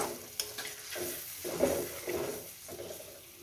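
Spices stir-fried with spice-bowl rinse water for a spicy chicken kosha hiss and sizzle steadily in the pan. Spatula scrapes and stirs come in uneven bursts, close and moderately loud, with no talking.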